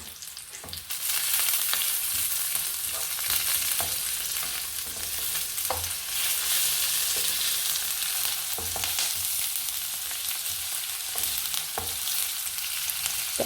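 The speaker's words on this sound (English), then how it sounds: "I love the smell of thyme in a pan, frying off with onions and garlic." Onions, garlic, fresh thyme, ginger and chilli fry steadily in a pan, giving a loud, continuous sizzle with occasional stirring scrapes and clicks, no voices.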